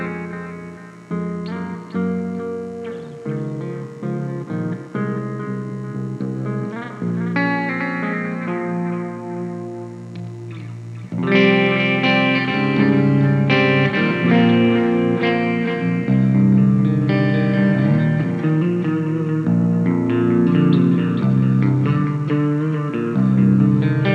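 Electric guitar plays a metal tone through a compressor and amp, chords and notes washed in reverb and echoing delay, growing louder and fuller partway through.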